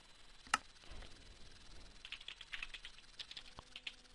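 Keystrokes on a computer keyboard while setting up a Bukkit Minecraft server: quiet, scattered taps and short bursts of clicking, with one sharper louder key hit near the start.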